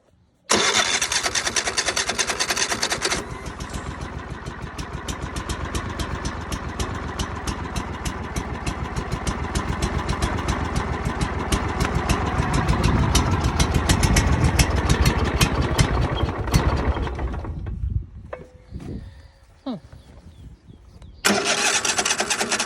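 An old Cub Cadet LT1050 riding mower's small engine sputters to life on choke and runs loud and steady up close, its rapid chugging holding for a while before faltering and fading near the end.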